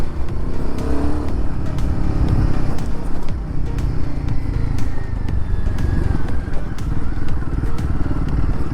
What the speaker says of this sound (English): this bike is handling this trail pretty well